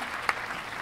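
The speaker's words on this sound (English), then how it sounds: "I'll give you a big round of applause" Short burst of applause-like sound effect on a guitar-discussion show congratulating a prize winner, steady hiss-like clapping with a brief accent near the start, lasting under a second.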